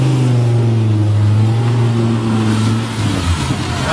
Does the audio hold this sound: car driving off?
yes